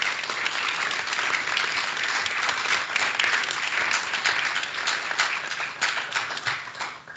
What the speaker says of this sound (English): can we give both panels a good round of applause